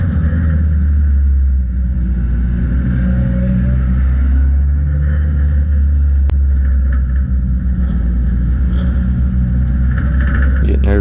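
Dirt track race cars rumble along together on a slow pace lap at a Memorial weekend race, heard from inside one car as a loud, steady low engine drone with a sharp click partway through.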